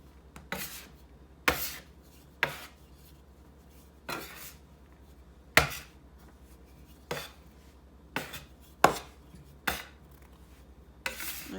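Bread dough for yeast rolls being kneaded with a little added flour, giving repeated soft slaps and thumps at an irregular rhythm, close and fairly quiet, with no talking.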